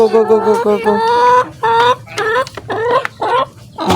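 Hens and a rooster clucking loudly and close by at feeding time on a backyard poultry farm, a busy run of overlapping squawks and clucks with no break.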